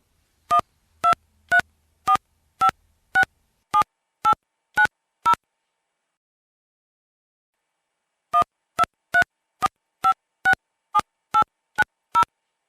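Touch-tone telephone dialing: a quick run of about ten evenly spaced keypad beeps, a pause of roughly three seconds, then another burst of about ten beeps, crisp and close with nothing else audible.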